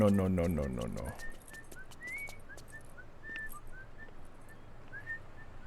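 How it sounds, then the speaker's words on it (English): A short burst of speech gives way to a character in No More Heroes whistling the boss theme, a thin, melodic string of brief rising notes at moderate volume. "he was whistling the boss theme."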